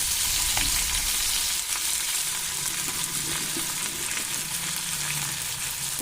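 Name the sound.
stirring potatoes frying in a pan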